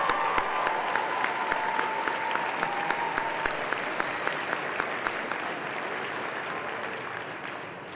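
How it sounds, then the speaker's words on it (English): A school auditorium audience at a senior honors night gives a sustained round of applause for two valedictorians, dense steady clapping throughout that slowly thins toward the end, with a few louder nearby claps standing out. "I'd like another round of applause for our 2 valedictorians"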